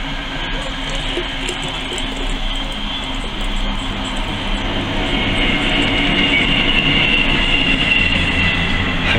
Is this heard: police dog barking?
no